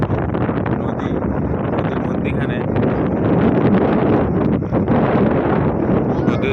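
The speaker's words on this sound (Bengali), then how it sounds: "নদীর মধ্যিখানে যে হাওয়া প্রচুর, ওই ছাওয়ার ভিতরে থাকলে প্রচুর পরিমাণের হাওয়া" Strong wind buffets the microphone on a boat crossing the middle of a river, a loud continuous rumbling roar with no letup.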